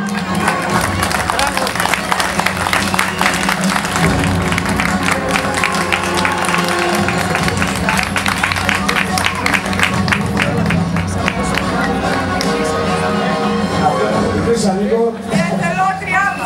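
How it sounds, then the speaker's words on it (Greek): A crowd applauds steadily for about sixteen seconds, dense clapping and cheering packed together with a loud voice or music running underneath throughout. "Ένα μεγάλο χειροκρότημα το Σιδερίδη."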